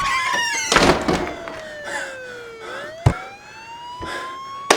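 A police car siren wails in long rising and falling sweeps as the car arrives, fairly loud, over background noise with a couple of sharp thumps like doors or impacts.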